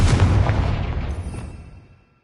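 A Confringo fire spell explodes in Hogwarts Legacy, one loud close boom with a crackling burst that decays into a rumbling tail over about two seconds and fades out.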